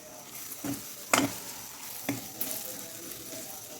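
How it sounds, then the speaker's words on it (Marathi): Mutton kheema masala with tomato fries in a pan, giving a soft, steady sizzle broken by a few brief stirring scrapes, fairly quiet and close. "आपण हा मसाला फ्राय करून घ्यायचा टोमॅटो टाकल्यामुळे आपला मसाला व्यवस्थित असा फ्राय होतो"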